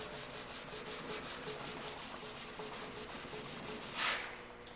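A cloth rubs finish into the wood grain of a guitar body in quick, even back-and-forth strokes, a soft, close, rhythmic scrubbing with one slightly louder swipe near the end.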